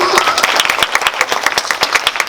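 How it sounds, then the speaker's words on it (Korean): An audience at a live event gives a short burst of clapping, fairly close and lively, with separate claps standing out in a steady rhythm throughout. "박수 한번 주세요"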